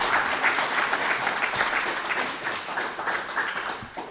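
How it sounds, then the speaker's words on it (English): Audience applause at an awards luncheon, a steady broad wash of clapping from a room of diners, moderately loud and continuous for about four seconds with no talk over it. "Can we get a round of applause for that"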